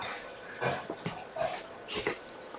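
A pet dog named Aki whimpers and yips in several short, high, whining bursts, fairly close and indoors, with no talking over it.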